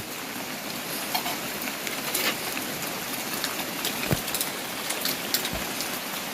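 Light drizzle falls over the rice terraces of Pa Bong Piang in Mae Chaem, Chiang Mai, a steady, soft hiss of fine rain with scattered louder drips close by, continuous and calm.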